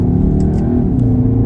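A 2021 Skoda Octavia RS engine drones steadily at close range, a loud, even mid-pitched hum with rising harmonic tones and no talk.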